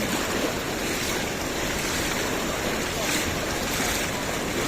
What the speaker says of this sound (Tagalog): Ang lakas ng current ah.